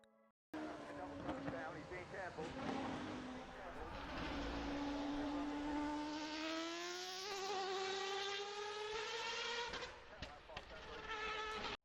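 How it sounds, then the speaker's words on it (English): A Mazda 787B rotary race car engine screams at high pitch, its tone rising and falling through gear changes, loud and continuous after a brief quiet start. "the engine sound is one of the most satisfying things a car enthusiast will ever hear"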